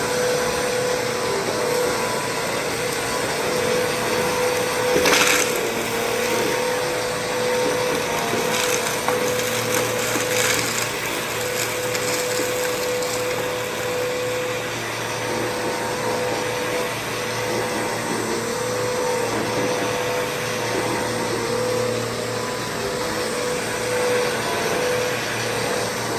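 A vacuum cleaner cleaning up dust during floor prep: a continuous loud motor whine and airflow roar held throughout, with scattered scraping knocks and rattles of debris being sucked up, and no one speaking.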